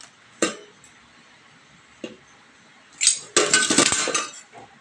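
Dishes, pots and cutlery handled while being washed after cooking in a home kitchen: a few separate clinks early on, then a louder burst of clattering metal and crockery near the end, close by with no talking.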